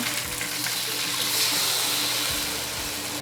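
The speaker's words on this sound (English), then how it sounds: "we're gonna pour our sauce in" Sauce pours into a hot pan of browning chicken for three cup chicken, giving a steady close sizzle and liquid rush with no one talking.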